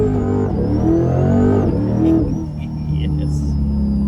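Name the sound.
supercharged Chevrolet C8 Corvette engine with supercharger whine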